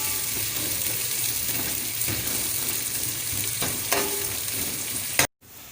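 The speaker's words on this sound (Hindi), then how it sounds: "एक मीडियम साइज़ की हमने ये प्याज बारीक चॉप करके डाली है। इसको अच्छी तरह हम गोल्डन फ्राई करने तक पकाते हैं।" Finely chopped medium-sized onion fries steadily in a pan, a loud continuous sizzle with light stirring scrapes, which cuts off abruptly near the end.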